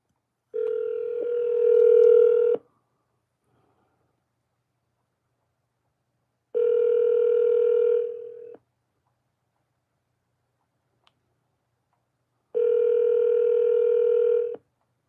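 An Alexa smart speaker places a phone call, and a ringback tone sounds three times in long steady rings of about two seconds each, separated by roughly four seconds of silence, clear and alone.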